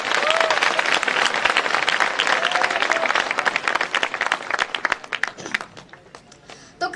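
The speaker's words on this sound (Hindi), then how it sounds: "एक बार तालियां बजाकर" Audience at a motivational speech breaking into loud, dense clapping that holds for several seconds, then thins into scattered claps and fades out.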